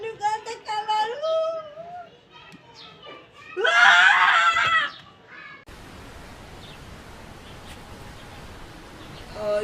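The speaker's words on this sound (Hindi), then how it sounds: "इसकी भी चीखों की आवाजें आ रही हैं।" Screaming in a Hindi sas-bahu style Naagin comedy skit: a loud, shrill burst of about a second, following talk in the opening seconds, then quiet background noise.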